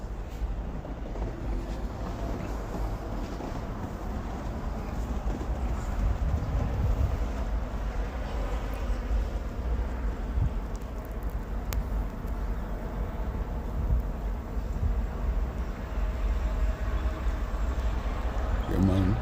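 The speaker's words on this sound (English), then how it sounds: "Look, indoor, inside, the snow blowing here." Snowstorm wind blowing snow inside a building in Montreal, a steady low rushing roar with gusty buffeting against the microphone.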